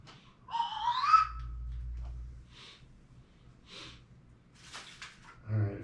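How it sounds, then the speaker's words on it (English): Slide whistle on a radio broadcast, one clear rising and falling glide near the start, then faint breathy bursts and a low hum. "If you don't like the slide whistle, then I'll switch."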